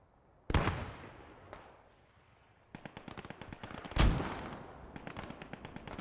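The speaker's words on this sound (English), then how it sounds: "Those German mortars landing a little bit further back now" German mortar shells land in the Post Scriptum war game: two heavy explosions boom a few seconds apart, and rapid bursts of machine-gun fire rattle between and after them.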